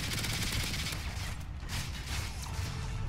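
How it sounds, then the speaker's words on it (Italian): Rapid bursts of video game pistol gunfire crackle continuously with a dense mechanical clatter, loud and close throughout, no voices. "Gli sparo un po' con una pistola a caso,"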